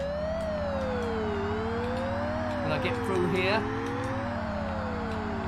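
An Amiga racing game's police car siren sweeps slowly up and down over a low engine hum, steady throughout, while someone briefly talks over it partway through.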